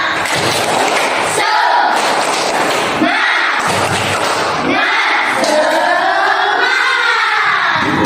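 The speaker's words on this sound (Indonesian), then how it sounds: "mari kita tepuk semangat terlebih dahulu" A school class performs the 'tepuk semangat' clapping chant, rhythmic groups of hand claps and thumps alternating with children's loud chanted voices in a close, lively room.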